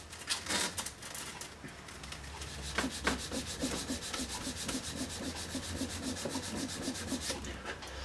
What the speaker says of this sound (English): I'm just finishing off with here with 240 grit fine sandpaper